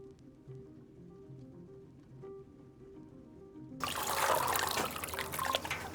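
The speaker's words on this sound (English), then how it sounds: "you are going to scald it in 145-degree water for about 30 seconds" A whole chicken is plunged into 145-degree scalding water, a sudden loud splash and sloshing churn after a few seconds of quiet background hum.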